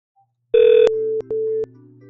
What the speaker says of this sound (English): As you guys could hear, I'm getting a call from my DGM, so I'm gonna go pick up the phone.